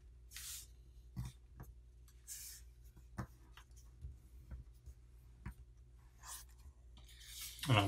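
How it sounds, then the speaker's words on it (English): Paper being folded and creased by hand while making a fast, far-flying paper airplane, giving soft scattered rustles and short sharp crinkles and swishes, close and fairly quiet, with no voices. "now we'll fold this edge here to land on that crease there"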